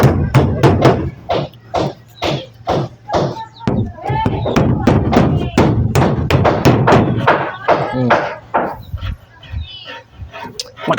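Close, loud hammering at a house: rapid, regular blows with sharp thuds in quick succession for about eleven seconds, with voices talking at times beneath the strikes.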